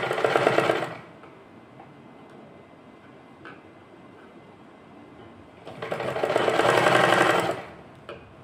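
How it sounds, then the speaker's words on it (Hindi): A sewing machine stitching small pleats into a fabric strip for a summer dress, two loud close bursts of rapid mechanical stitching with a quiet pause between. "और इस पे सिलाई लगाएंगे"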